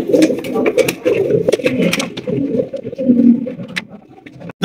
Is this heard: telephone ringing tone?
no